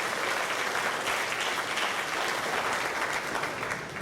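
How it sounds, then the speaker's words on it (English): At a Hall of Fame induction ceremony, an audience gives the Jimmy B orchestra a dense, steady round of applause from many hands, even in level and tapering slightly at the end. "Give him a big round of applause for that orchestra now today."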